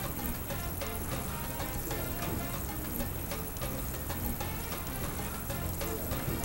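Calamares fry in a pan of oil with a steady, even sizzle and crackle that holds at a constant level throughout, fairly quiet and with no talking.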